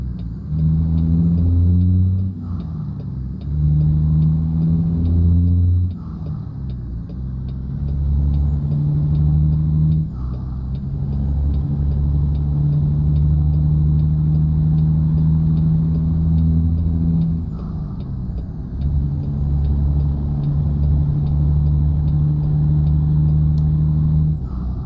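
A heavy truck engine in American Truck Simulator drones steadily and loud, climbing in revs and dipping briefly at each gear change, about five shifts in a row, with no talking.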